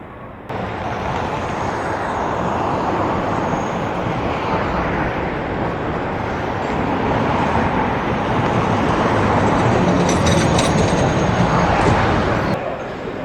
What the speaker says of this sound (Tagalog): Ito na, parating na yung sasakyan natin na streetcar.